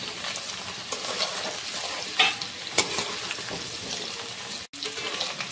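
Vegetables fry in a pan as chopped cauliflower is added and stirred, giving a steady close sizzle with scraping stir strokes, a couple of clinks and a brief drop-out near the end.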